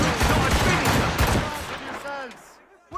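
Ship cannons firing in a naval battle in Assassin's Creed Rogue, a loud rolling volley of booms under shouting voices, fading into a quieter tail before a final sharp hit.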